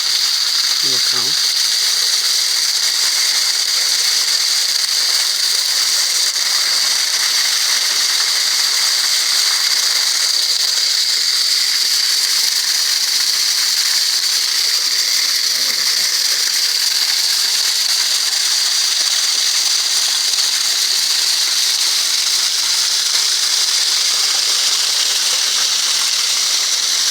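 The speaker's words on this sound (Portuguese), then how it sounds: "cachoeira." Cachoeira da Serrinha waterfall in Carmo do Cajuru: a loud, steady rushing roar of falling water that fills the whole stretch without a break, heard close by.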